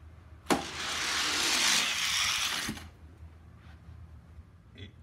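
Hot Wheels toy truck whooshing down a plastic track in a five-pack race, a sharp click at the start, then a loud rushing roll for about two seconds ending in a clack, followed by quiet.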